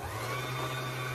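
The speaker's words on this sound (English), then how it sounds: "I have just told my sewing machine that it's time to wind a bobbin" A home sewing machine's motor runs steadily as it winds a bobbin, giving a constant, even hum with no breaks and no talking over it.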